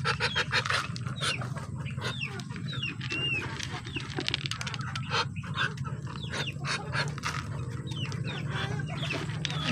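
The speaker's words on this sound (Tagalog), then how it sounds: "Nakain pala ako ng manok at pato." Farm chickens and ducks cluck and murmur continuously while feeding, with scattered sharper calls over a steady low background, close and fairly quiet.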